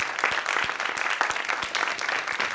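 A Unitarian Universalist church congregation applauds the band after the music at a Sunday service, with crisp individual claps standing out in a close, lively round of clapping.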